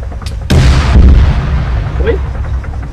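A loud boom and burst of gunfire at a tank in the Arma 3 video game. One sharp blast rolls into a heavy low rumble, with faint sounds of combat after it.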